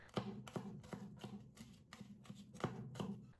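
Garlic cloves being minced with a cleaver on a board, a steady run of sharp close chopping knocks at a brisk rhythm, quiet overall with no talking.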